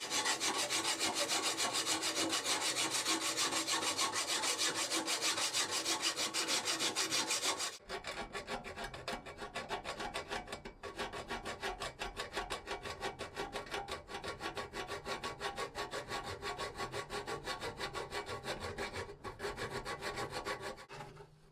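A tool cuts off part of a Scopema passenger swivel seat base in a Ford Transit van, giving a loud, steady, harsh grinding rasp that changes tone and eases slightly about a third of the way through, then carries on unbroken.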